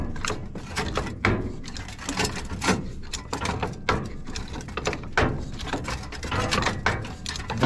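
Metal clanking, scraping and ratcheting at close range as a stuck bolt is worked and broken off a scrapped copper electric motor, in a busy, irregular series of knocks and grinding clicks.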